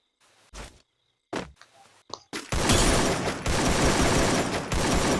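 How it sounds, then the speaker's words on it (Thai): Gunfire in the battle-royale game Free Fire, solo ranked mode: a few sharp isolated shots and a faint voice early on, then a sustained loud burst of rapid automatic fire filling the rest of the clip. "ทุกคน ยิงสวนนะ"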